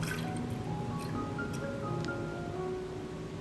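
Water trickles and drips steadily into a pressure cooker holding soaked green gram, a soft continuous liquid pour heard close up with no talking.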